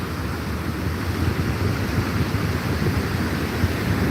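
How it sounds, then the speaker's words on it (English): Strong ocean waves at Channel Islands Dunes in Oxnard, California, make a continuous broad roar of surf mixed with gusting wind buffeting the microphone, loud and steady throughout with no talking. "we watch the waves. They're very strong."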